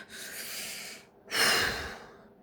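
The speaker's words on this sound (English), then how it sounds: "Phoenix, take a deep breath." Two deep breaths, a long inhale then a stronger exhale, breathy and close with a short gap between them, no talking.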